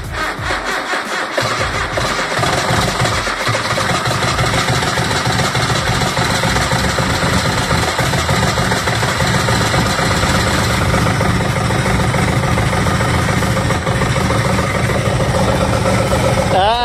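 A project car's engine cranks and catches, then settles into a loud, steady idle that runs on without a break. People talk nearby over the running engine.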